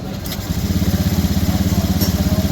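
A Honda Vario 110 scooter engine, with a crankshaft position sensor fault being repaired, cranks on the starter and catches, then settles into a steady, close, pulsing idle.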